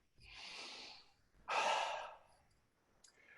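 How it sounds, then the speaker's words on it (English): A person draws in a deep audible breath, then lets out a long, louder sighing exhale, with a brief faint sound near the end; no talking. "I'm going to take a deep breath."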